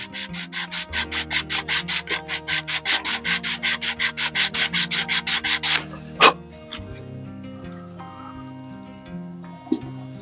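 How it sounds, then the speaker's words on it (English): Hand sanding of epoxy on an air rifle stock, a steady run of about twenty rhythmic rubbing strokes, close and fairly loud, that stops partway through, followed by quieter background sounds. "We'll know we're there when we uh, sand away that epoxy."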